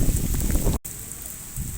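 Heavy rain pours down in a village, a steady broadband hiss of downpour with a brief dropout partway through, close and fairly loud with no talk over it.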